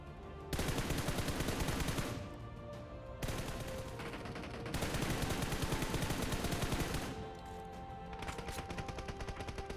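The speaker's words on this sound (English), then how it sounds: "shoot at the boards using hipfire and ADS" Automatic weapon gunfire aimed at target boards in the PUBG Mobile training mode, loud sustained bursts of rapid shots with short pauses between strings, close and alone without talk.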